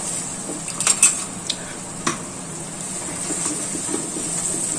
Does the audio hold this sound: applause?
no